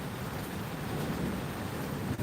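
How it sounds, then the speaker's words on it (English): Rain from a slowing thunderstorm falls on an Australian backyard as a soft, steady, even hiss, quiet and unbroken for a couple of seconds with no talking. "just sit back, listen to the rain"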